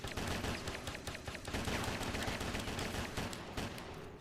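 Gunfire erupts in the game Headhunter Redux in sustained rapid bursts, with dense, overlapping shots filling the whole few seconds at a steady loud level.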